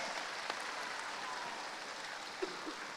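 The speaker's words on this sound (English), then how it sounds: "Give him a round of applause." An audience at a student debate showcase gives soft, continuous applause that sounds faint and somewhat distant, with an even wash of clapping and a couple of isolated louder claps.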